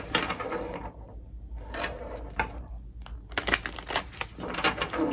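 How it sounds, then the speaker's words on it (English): Tarot cards being shuffled by hand, a dense papery riffling and crinkling that comes in several bursts across the clip, close and fairly loud, with a short quieter gap in the middle. "Okay, I'm getting one more shuffle"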